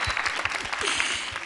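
An audience at the Angola Encanta 2012 final applauds, a steady wash of many hands at moderate level lasting about a second and a half, with faint voices underneath.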